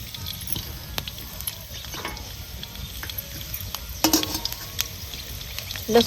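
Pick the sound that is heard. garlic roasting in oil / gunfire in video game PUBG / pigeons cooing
garlic roasting in oil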